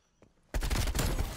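Rapid, sustained automatic gunfire from a low-recoil gun in Call of Duty Cold War, bursting in loud and dense after a brief quiet lead-in and continuing steadily to the end.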